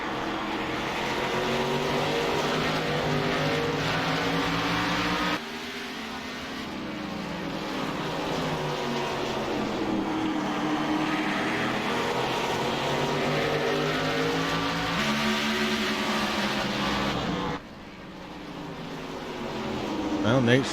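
Race cars lapping the Martinsville Speedway short track in a Relentless Racing Series event, their engine notes rising and falling in repeated sweeping passes under steady commentary talk.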